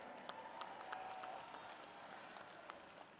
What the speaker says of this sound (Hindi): साथियों, जोरदार तालियां बजा करके